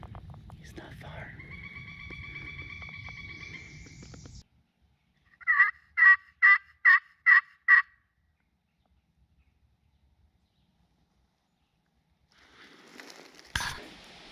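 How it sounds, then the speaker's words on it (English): A wild Osceola turkey gobbles nearby in a Florida river-bottom wildlife area: one long rattling gobble followed by a rapid series of six sharp gobble notes, then quiet, with faint whispered talk and a soft rustle. "He's just gobbled again. He's really close"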